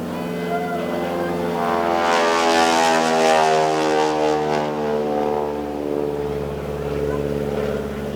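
A biplane passes overhead at an outdoor Veterans Day gathering in Amherst, Ohio, its propeller engine droning loud and steady, swelling as it nears and slowly easing off over several seconds.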